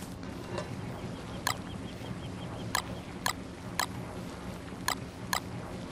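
In the video game Don't Starve, turkeys rustle in berry bushes, giving faint clucking fowl calls broken by several sharp, spaced clicks over a quiet, low background.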